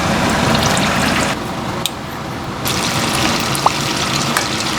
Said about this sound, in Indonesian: tinggal kita goreng di minyak panas